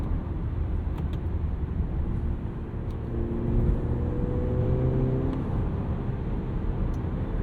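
Steady low hum of a 2023 Mercedes-Benz GLC 300's 2-liter four-cylinder engine heard from inside, a slightly buzzy drone with gentle rises in pitch, continuous and moderately loud with no talking.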